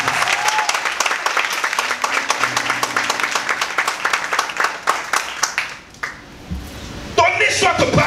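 A church congregation at a worship service applauds to acclaim the Lord, dense rhythmic clapping running steadily for several seconds before thinning out, then swelling again near the end, with voices mixed in.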